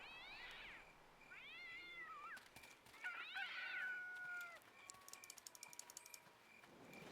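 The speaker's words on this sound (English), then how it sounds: "These cat noises is crazy." A cat in Neverwinter Nights Enhanced Edition meows several times in a row, sharp rising and falling cries that stand out clearly against a quiet background, with faint clicking between them.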